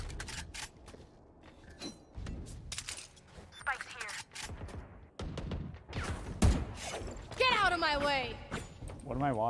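Bursts of gunfire in Valorant on the Icebox map crack out in quick volleys, mixed with footsteps and clanks, while players talk over the action throughout.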